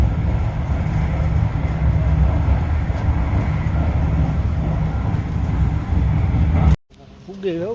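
A train rumbles steadily in a low, constant drone while people talk over it, and then the sound cuts off abruptly near the end.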